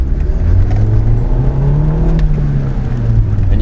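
A car engine in first gear revs up steadily to about 4,000 RPM, a loud, close rising drone with a climbing pitch that holds, then eases slightly, with no talking over it.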